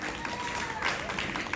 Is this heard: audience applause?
yes